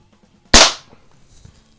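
A CO2-powered .22 caliber air pistol fires a single sharp, loud crack close by, followed by a quick decay and near silence.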